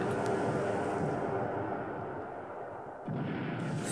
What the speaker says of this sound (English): Double torpedo hit.